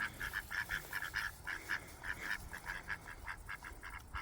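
Ducks wearing leg rings quack repeatedly at close range in an outdoor setting, giving a rapid, rhythmic run of nasal honks that come in quick bursts with short pauses, against soft background noise.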